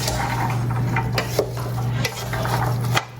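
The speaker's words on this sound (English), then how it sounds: "I'm just gonna stir to combine with the rhubarb before we add the sugar." Quartered fresh strawberries and rhubarb stirred in a large stainless steel pot, with wet squelching and spoon scrapes and taps against the metal, steady and close, under a faint background hum.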